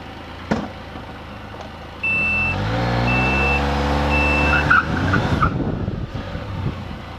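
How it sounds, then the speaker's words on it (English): A car fitted with a Pedal Commander throttle controller in city mode accelerates from a driveway, engine revving up with rising tones and a steady warning beep, then a brief tire squeal as it peels out. "So that was city mode, and you can see it actually did a little bit of a peel out."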